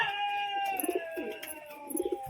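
Caged pigeons, a breeding pair, at a home loft in Chakdah, give soft, repeated throaty coos in short bursts over a steady low hum.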